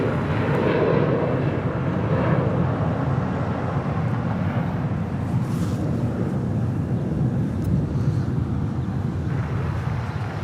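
An airliner taking off from runway 25 right at Los Angeles International Airport, a loud continuous low jet roar with a broad rushing wash and wind buffeting, steady throughout with no talking.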